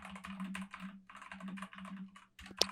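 Fast, intense typing clatters on a mechanical keyboard in rapid bursts with short pauses, close and fairly quiet, ending on a louder key strike.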